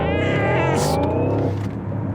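Porsche Cayenne Electric prototype, over 1,000 horsepower, launching hard in launch control with a rising electric whine and loud road and wind rush, a short burst of noise partway through.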